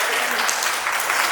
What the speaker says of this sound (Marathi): सर्वांना टाळ्या वाजवा एकदा.